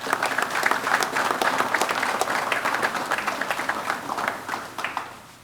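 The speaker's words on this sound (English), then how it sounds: "Let's give a round of applause for those folks." Applause at a press conference introducing a Towson University head football coach, dense clapping from a gathered audience, loud and sustained before tapering off at the end.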